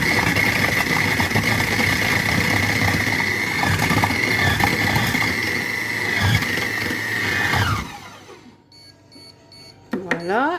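A Compact Cook Pro food processor runs at speed 5 while mixing a tuna stuffing for aubergines, giving a steady loud whirring hum that cuts off near the end, followed by a few beeps.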